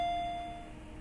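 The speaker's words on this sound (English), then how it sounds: "The doorbell" Doorbell in the Higurashi When They Cry Hou video game, a single faint electronic tone that rings out at the start and fades away within a second.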